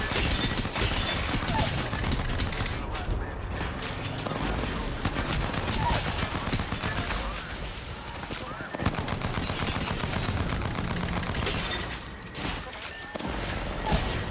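Sustained video game gunfire, a dense fusillade of rapid shots and bursts running nearly throughout at steady loudness, with a brief lull near the end and game sounds mixed in.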